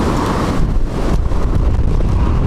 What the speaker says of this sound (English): wind caught me there